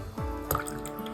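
Water is poured into an Eco Pour powder mix, giving a short liquid splash and drip followed by a soft, steady trickle, close and fairly quiet with no talk.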